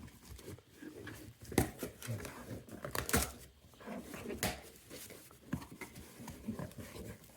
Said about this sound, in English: So we'll cut the bottom open too and just press it out the bottom.